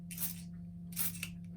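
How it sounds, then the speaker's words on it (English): A handheld atomizer sends a fine water mist over artwork, two short soft hissing puffs separated by a pause, close and clear over a steady low hum. "What you need now is an atomizer. I've got this now down to quite a fine, misty spray."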